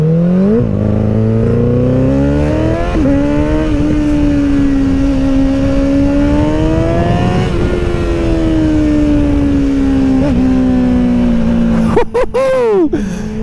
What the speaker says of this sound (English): Let's just listen to some uh, engine pops.